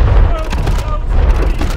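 Heavy naval guns firing from a cruiser in War Thunder Mobile, heard as a run of deep, loud booms and rumbling blasts layered over one another, with game voice callouts mixed in.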